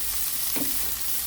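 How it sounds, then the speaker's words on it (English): Onions sauteing in a pan at the start of a chicken potato soup: a steady close sizzle broken by a quick stir near the middle, with no voices. "I'm going to saute first my onions."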